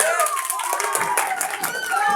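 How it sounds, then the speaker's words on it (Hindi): Loud clapping from a crowd at a children's Independence Day program, dense and continuous, mixed with voices and cheering. "दफा फिर जोरदार तालियां हो जाए।"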